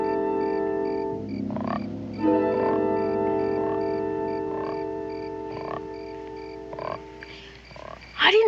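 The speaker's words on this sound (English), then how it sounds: "I didn't know you had a frog." A frog croaking nearby in a series of low, raspy calls at irregular intervals over a steady background drone, ending with a louder burst.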